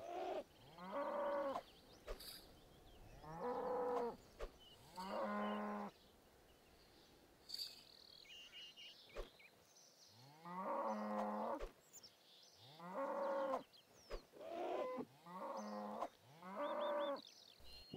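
Cows moo in a video game, a series of loud, drawn-out lowing calls coming in separate bursts with short gaps, plus scattered sharp game sound effects in between.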